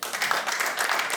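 Brief burst of audience applause at a comedy club show, a dense steady patter of many hands clapping at moderate distance, with no talk over it.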